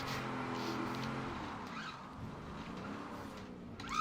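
Car in GTA V sliding under the handbrake and oversteering, steady engine drone with rising and falling tire squeal through the slide, and a sharp squeal at the end.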